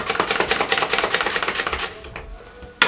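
A knife chops onion on a board while preparing aloo samosa chaat, making quick, even, close chopping taps that slow into a few scattered cuts and end with one sharp chop.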